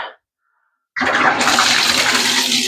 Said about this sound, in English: Fill this up. You just rinse off the tub.